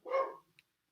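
A single short dog bark from downstairs in a house, one moderately loud yelp-like bark followed by a tiny faint after-sound, then quiet.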